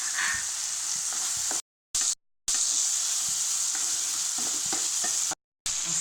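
Chopped greens and peas with green chili, salt and turmeric frying in a pan, a steady close sizzle with intermittent stirring scrapes, briefly cut by short gaps of silence, with no talk.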